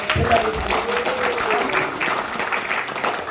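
A church congregation at Sunday worship applauding in congratulation, a dense, steady wash of clapping with some voices mixed in.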